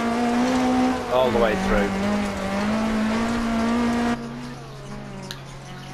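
A rally car engine in DiRT Rally holds a steady, buzzing drone as the throttle is modulated, dipping and rising in pitch, then dropping lower near the end, with someone talking over it.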